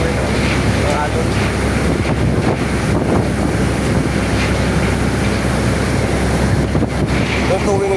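Loud, constant sea waves and strong wind buffet a sailing boat off Mindoro on the way to Tingloy, Batangas, with heavy wind rumble against the microphone and faint voices underneath.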